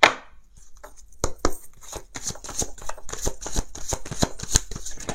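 Tarot cards being shuffled for a seven-card draw, close and fairly quiet: after a short pause, a steady run of rapid papery flicks and riffles with a regular rhythm, no voice over it.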